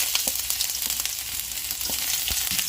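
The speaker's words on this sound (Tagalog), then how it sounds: "Gisa natin ang ating luya." Ginger sautéing in a hot oiled pan, a dense, steady sizzle and crackle with scattered light knocks of stirring, close up and with no talking.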